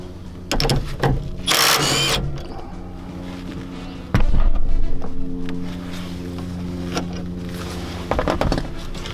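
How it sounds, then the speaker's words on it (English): A 14mm socket on a ratchet works loose a seat belt anchor nut inside a Toyota Tacoma, giving loud close mechanical clicks and whirring bursts amid a steady machine-like hum. "Now let's use a 14mm socket to remove this nut in order to free this part of the"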